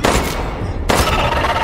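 Loud, dense bursts of rapid gunfire crackle without a break, a brief lull midway before another heavy volley of game shots erupts.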